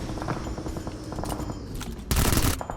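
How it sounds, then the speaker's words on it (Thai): Gunfire in PUBG Mobile: rapid bursts of shots crackling over game sounds, with a louder, denser volley near the end. "เสียงปืนทางซ้ายครับ"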